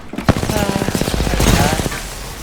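Rapid automatic gunfire from the video game Apex Legends, a loud sustained burst of evenly spaced shots rattling over a dense background, with a sharp opening crack.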